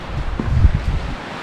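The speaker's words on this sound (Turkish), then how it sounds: "Bak şu an rüzgarın sesi çok güzel." Wind gusts buffet the microphone on a coastal hiking trail near Mesudiye and Hayıtbükü, Turkey, with a low, rumbling roar that rises and falls over a couple of seconds, with no talking.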